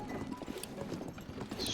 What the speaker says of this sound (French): Le cheval suit automatiquement les chemins.